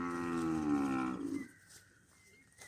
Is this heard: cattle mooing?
yes